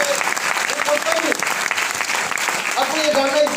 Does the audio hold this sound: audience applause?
yes